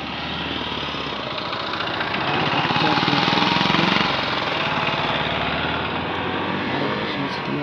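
A Hero Glamour Xtec motorcycle accelerates with a steady, close engine drone that swells in the middle and then settles, a continuous buzzing exhaust with no clear talk over it.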